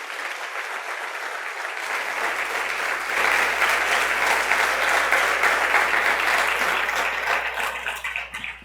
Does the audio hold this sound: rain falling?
no